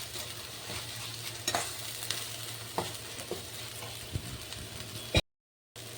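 Masala fries gently on low heat for chicken fried rice, a quiet, steady sizzle broken by occasional spoon clicks and stirs, cutting out briefly near the end.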